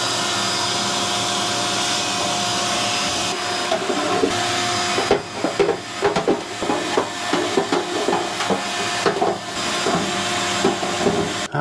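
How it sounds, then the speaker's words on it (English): A vacuum cleaner sucks debris out of a Kenmore 500 Series gas dryer's fan area, a steady loud whine running throughout with bumps and rattles of the nozzle against the housing in the second half. "We're gonna get a vacuum, clean this all out"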